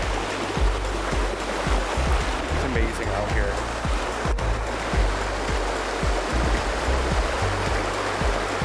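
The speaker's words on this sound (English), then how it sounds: "We have made it to Oak Creek, as you can hear." Oak Creek in Sedona, Arizona rushes and burbles in a steady, full wash of flowing water, with a person speaking briefly over it and low rumbling underneath.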